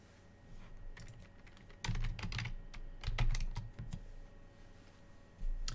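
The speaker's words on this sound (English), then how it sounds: "you probably heard me typing there a second ago" Someone types on a computer keyboard at close range, delivering scattered clicking keystrokes in uneven bursts with brief pauses and a few heavier key presses.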